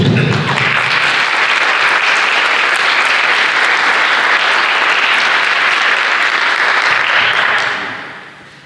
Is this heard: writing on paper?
no